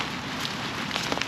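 Rain falls outdoors near coastal cliffs at Lennox Head, a dense, hissing patter with scattered sharper drops, close and fairly loud with no talking over it.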